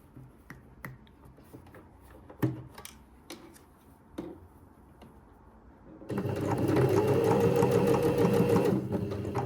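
A sewing machine stitches a shirt's revere collar seam, a straight edge sewn to a curve: scattered ticks and snaps of handling first, then a loud, steady motor whir running alone for the final few seconds.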